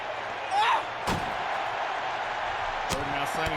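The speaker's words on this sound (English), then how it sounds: "Slamming Sapphire back into the door" A wrestler is slammed hard into a door in the WWE 2K19 wrestling video game, giving a sharp impact thud at about one second and a second crash near three seconds over steady crowd ambience and commentary.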